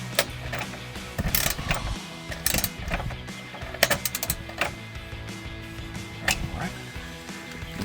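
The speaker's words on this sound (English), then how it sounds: "Using a 10mm, tighten this bolt down" Rapid ratchet clicking in repeated bursts while a 10mm bolt is tightened on a Ford F-150 running board, with close, sharp mechanical ticks and brief pauses between strokes.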